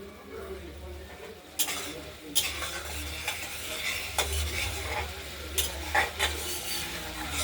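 A spice paste of cumin, ginger and chilli is stirred in a hot pan while cooking a pabda fish curry with potato and tomato, giving a steady low sizzle broken by scraping and clinks of a utensil against the pan.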